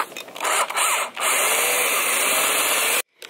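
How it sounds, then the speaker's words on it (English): A power drill whines continuously at high speed, drilling out a plastic bumper clip on a Subaru WRX STI, with a couple of brief dips, then stops suddenly near the end. "So you know what? We're just gonna drill them out."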